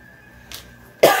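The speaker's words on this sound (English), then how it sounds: "sorry, we got the coughs here." Two coughs close to the microphone, the first short and muffled and the second louder and harsher, cutting through a quiet room with a faint steady tone.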